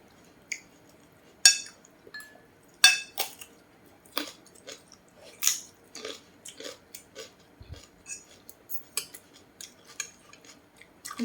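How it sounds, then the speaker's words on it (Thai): Someone chews spicy chili peppers with a meal of Thai-Lao papaya salad and rice noodles, close, crisp wet crunches and small clicks coming in an irregular run, with no talk. "เคี้ยวพริกมันเผ็ด"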